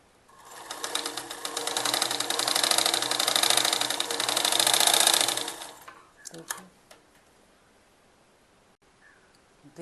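A sewing machine stitches around the neckline of a kurti in one loud, continuous close run of about five seconds, then stops, followed by a few soft handling rustles and quiet.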